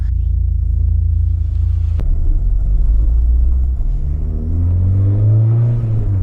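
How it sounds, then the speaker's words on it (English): A Volvo 440 GLT (Grand Lux Touring) hatchback drives along, its engine droning loudly and steadily, then revving up with a rising pitch as it accelerates. "We're going to test the Volvo 440."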